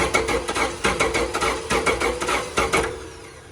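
A 2006 Chrysler 300 3.5 V6 with a dead misfire on one cylinder and the intake removed cranks over on the starter, a loud, rhythmic, uneven chugging that runs steadily for about three seconds and then fades out.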